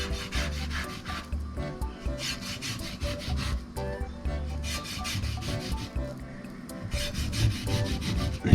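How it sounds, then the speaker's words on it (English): Salt being rubbed by hand into a whole Australian salmon scored with slits down both sides, a close, continuous coarse scraping and rubbing that runs steadily throughout. "just a little bit of salt rubbed into that."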